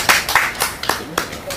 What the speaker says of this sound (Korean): 화이팅 박수로 마치겠습니다